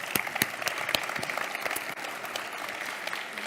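Audience applause welcoming the director of CaixaBank's Dualiza Observatory at a vocational-training panel event, a steady dense clapping with sharper individual claps standing out, sustained for the full stretch without talk.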